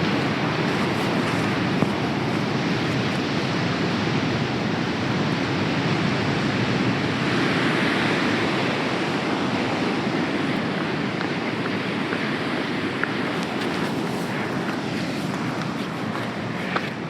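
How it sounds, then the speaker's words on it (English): Ocean waves crash and surge at the foot of a sheer cliff on the Portuguese coast, a steady, loud roar of surf with wind buffeting the microphone throughout, no voices. "the waves are frightening"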